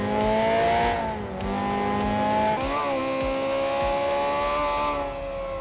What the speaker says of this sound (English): Going uphill, this thing makes all the great sounds, pushing it to the red line.